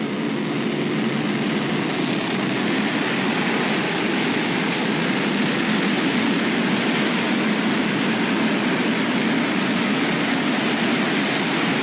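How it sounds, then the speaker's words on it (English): Three SpaceX Raptor rocket engines ignite on a prototype Starship to flip it upright for landing, a steady, dense roar holding loud and unbroken throughout, heard from a distance with no voices. "not the usual 2, but 3 Raptor engines ignited to flip the vehicle back into vertical flight"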